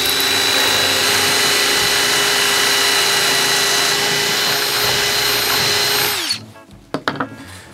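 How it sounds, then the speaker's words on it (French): An electric drill boring dowel holes in a wooden board whines loudly and steadily for about six seconds, then winds down, followed by a few sharp knocks and clatters close by. "maintenant il ne me reste plus qu'à attaquer le perçage."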